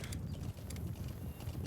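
Horse hooves in Metal Gear Solid V, a steady galloping clip-clop with a low rumbling body and faint high scuffs, close and continuous under the ride.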